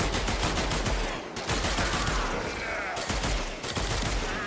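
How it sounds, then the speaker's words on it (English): Panthera Prime firing its regular primary fire in Warframe, a rapid run of loud close gunshot bursts with brief gaps, dense and continuous across the clip. "I'll show you the regular fire rate. Or the regular shots at this fire rate."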